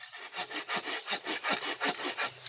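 A small hand saw works through wood in quick, even back-and-forth strokes, each a close, dry rasp, about eight or nine of them in a steady rhythm.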